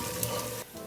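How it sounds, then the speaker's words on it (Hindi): Dry spices frying with onions in a pan for mash dal. A short, close sizzle with light crackle dips suddenly near the end and then picks up faintly. "तो अब मैं इसमें डाल दूँगी ये सारे ड्राई मसाले और इनको भी मैं फ्राई कर लूँगी।"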